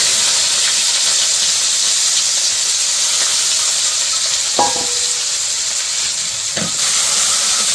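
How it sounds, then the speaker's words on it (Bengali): Onion and green chilli sizzle loudly in hot oil in a wok, a continuous close hiss and crackle broken by a couple of sharp metal scrapes from stirring. "পেঁয়াজ আর কাঁচামরিচ দিয়ে দেই। কড়াই তেল দিয়ে দিছি আগেই।"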